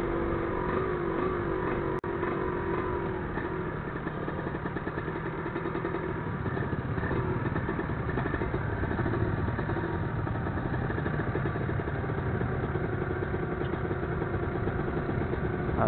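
Motorcycle engines in night street traffic in Jakarta form a continuous, loud, close drone of idling and revving motors that fills the whole stretch without talk.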